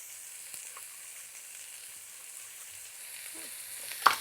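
Kangaroo meat searing undisturbed in a hot pan gives off a soft, even sizzle and hiss, fairly quiet and steady, with a sharper clatter right at the end.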